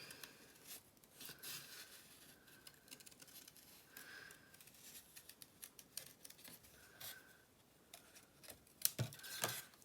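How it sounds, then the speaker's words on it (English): Scissors snip through paper cardstock while cutting out a card wing, a close series of soft, rapid cuts and rustles, quiet and steady with no speech. "So I'm just going to cut out this second wing."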